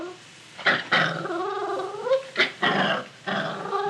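A dog growls low and rumbling in an old radio drama while a new collar and leash are put on her. The growls come in several close, uneven bursts with whiny edges, loud and with no talk over them.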